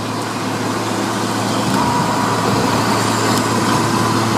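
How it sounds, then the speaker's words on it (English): Loud truck roaring alongside while driving with the windows open, a constant heavy engine drone and rushing road noise that swells slightly in the middle, close and dominant throughout. "I'm gonna get past this truck. This is fucking loud."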